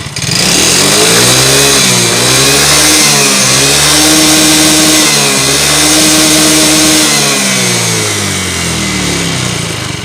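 Yamaha Mio GT scooter with worn piston rings and a worn bore, its engine revved hard and held, the rough mid-pitched drone rising and falling up close with no talk.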